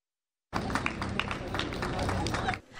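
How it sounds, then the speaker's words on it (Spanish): Crowd applause for security forces carrying out an anti-terrorist operation, starting abruptly after a short silence and holding as a steady, dense patter of many hands with some crowd murmur before fading at the end. "Aplausos en agradecimiento a las fuerzas de seguridad que continúan con su operativo antiterrorista por distintos puntos del país"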